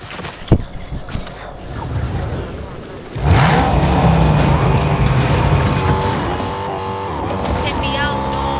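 A car driven in Fortnite: a few clicks and game noise, then an engine surges into a loud, sustained revving drone with squealing tire sounds, close and dominant for the rest of the stretch.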